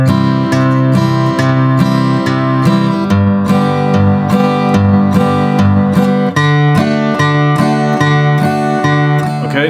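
Acoustic guitar in an old-time accompaniment style, strumming a chord progression with steady alternating strums, loud and close, each stroke crisp and even with no voices over it.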